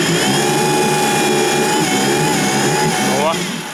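A 2006 Suzuki DF50 outboard motor runs at idle with a worn idle valve knocking, a loud, steady mechanical drone with a faint rhythmic tapping, close up, ending with a brief change in pitch.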